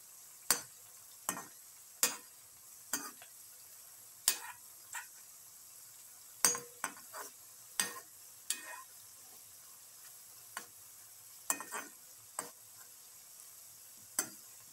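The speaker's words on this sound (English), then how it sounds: "Let it fry." Bitter gourd, fenugreek and chickpea fritters fry in oil, heard as sparse, sharp crackles and pops spaced irregularly over a faint, quiet background.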